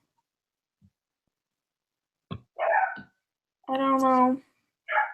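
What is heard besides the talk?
dogs barking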